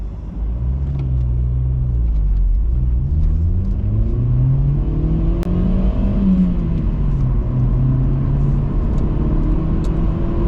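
A car driving along with a steady, loud engine rumble and road noise, the engine pitch rising and falling as it shifts through gears, heard from inside the car without talking.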